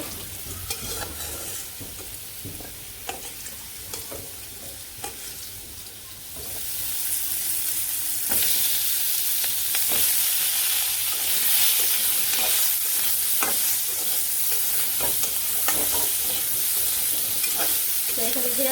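Potatoes fry and get stirred in a pan, a steady sizzle with scraping stir strokes that grows louder and brighter partway through, close by with no talk.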